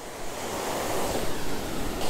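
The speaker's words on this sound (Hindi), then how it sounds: "यहाँ आके फील होता है कि कितना मैसिव अमाउंट में पानी आ रहा है।" Massive volume of water rushing over a dam wall in Kashmir, a steady loud roar of broadband noise with wind buffeting the microphone throughout, no voices.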